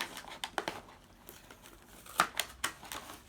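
Packaging crinkles as a Louis Vuitton box is opened, with quiet scattered rustles and a few sharper crackles, close and soft.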